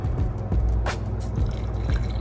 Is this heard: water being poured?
yes